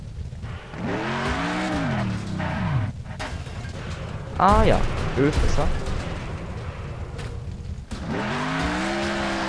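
A car in Next Car Game revving and skidding, engine pitch sweeping up and down with tire squeals and crashing impacts midway, while someone talks over it in German.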